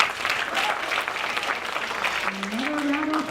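An audience of families at a school DARE graduation in Irvine, California claps steadily and fairly loudly throughout, and a brief tonal voice-like sound rises near the end.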